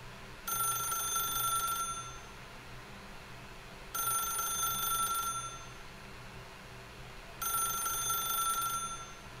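A telephone in The Stanley Parable video game rings three times in long, evenly spaced bursts, clear and steady over a faint background hum, with no talking.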